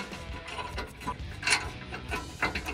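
A ratchet clicks in short irregular runs as the caliper bracket bolts are snugged down on a 2018 Ford F150 during a brake job, the mechanical clicks close and fairly quiet with occasional metallic clinks.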